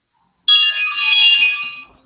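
A cell phone ringtone playing a melody goes off during a talk show, one loud, bright electronic tune lasting about a second and a half before cutting off, with no voices over it.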